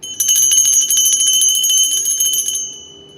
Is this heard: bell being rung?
yes